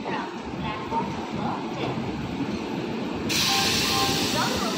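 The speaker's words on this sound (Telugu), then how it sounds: "విజయవాడ లోకోమోటివ్ వ్యాప్ 7" A WAP-7 electric locomotive train at Vijayawada station gives a steady, broad rumble and hiss that grows louder partway through, with a voice speaking over it.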